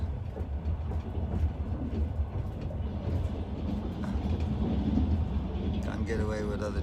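A long passenger train rolling through Siberian birch forest, heard from inside as a steady loud rumble with rail clatter throughout, while a person talks over it.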